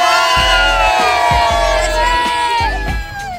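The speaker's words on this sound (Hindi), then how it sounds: "सब एक बार चिल्ला दो अब।" A group of children shouting together on cue during a Chinese whispers game, loud repeated bursts of yelling in several waves over a continuous noisy crowd.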